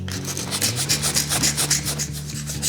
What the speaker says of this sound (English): give that adhesive 30 seconds to dry before sanding the excess adhesive away.